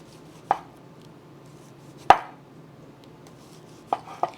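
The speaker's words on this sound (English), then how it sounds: "Then we're going to cut some mushrooms up." A knife chops through mushrooms on a cutting board in a home kitchen, giving a few sparse, sharp cuts spaced irregularly against a quiet room.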